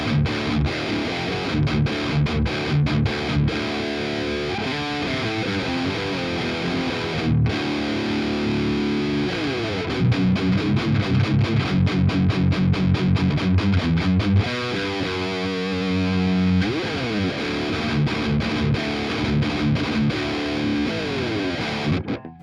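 An electric guitar runs through a Tube Screamer overdrive into a high-gain amp, giving loud, tight distorted chugging riffs and sustained chords played continuously for over twenty seconds, with brief stops between phrases.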